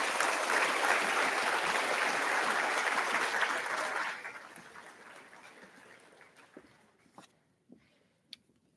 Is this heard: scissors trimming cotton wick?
no